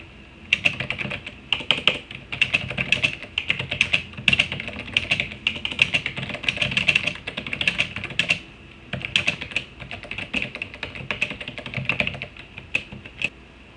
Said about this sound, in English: we can start typing our blog entry